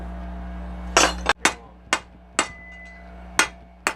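Heated rebar is hammered flat on an anvil, five or six sharp ringing metallic strikes spaced about half a second apart, close and loud over a steady low hum.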